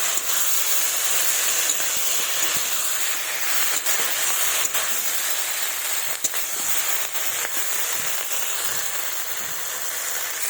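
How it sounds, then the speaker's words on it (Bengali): Fried potatoes and fish cooking in spices for a curry give a steady, loud broadband sizzle with faint scattered pops and ticks throughout, no voices. "এবার ভেজে রাখা আলু আর মাছ দিয়ে দেবো, দিয়ে ভালোভাবে কষিয়ে নেব"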